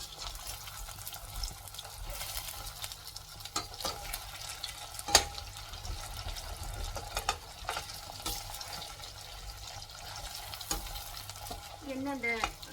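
Taro root (seppankizhangu) frying in oil in a pan, a steady low sizzle with occasional stirring clatter and a brief louder knock, bubbling settling gently throughout, no talk.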